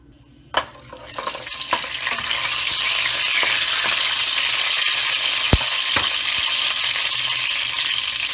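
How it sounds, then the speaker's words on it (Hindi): Garam masala bursts into hot oil, about five tablespoons, for a restaurant-style capsicum keema: a sudden loud sizzle that swells into a steady roar, with spoon knocks against the pan. "और इसमें डालेंगे ये गरम मसाला।"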